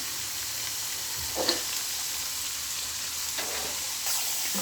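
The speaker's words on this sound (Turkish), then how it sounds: "önce patateslerimi kızartıyorum" Sliced potatoes fry in hot oil in a home kitchen, a close, constant hiss and crackle with a few sharper pops and stirring bumps.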